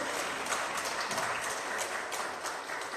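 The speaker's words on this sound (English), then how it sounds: "Please give a round of applause to the R3 Angels." A crowd applauds the R3 Angels at a Proton R3 merchandise launch at a car dealership, dense continuous clapping heard faintly from a distance.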